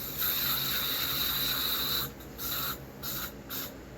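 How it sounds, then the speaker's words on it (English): Lysol disinfectant is sprayed from an aerosol can into a bag of plastic toy army men: a long steady hiss, then several short bursts, close by with no talk. "let's go ahead and spray them with a little bit of Lysol"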